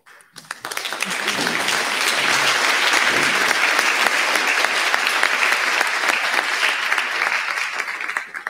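A hall full of people breaks into steady, full applause at a 2021 student leaders announcement, swelling quickly and sustained for several seconds before tapering off.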